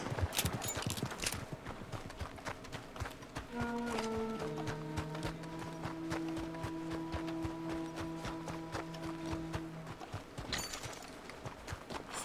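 Horse hooves clip-clop in a video game, a steady brisk rhythm of hoof strikes throughout, with a sustained tonal drone layered over the middle section.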